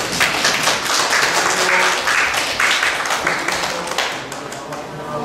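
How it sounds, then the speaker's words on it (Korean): An audience at a teacher training lecture applauds to welcome the speaker, with dense, close clapping from many hands that thins out and fades toward the end. "박수로 환영해 주시죠"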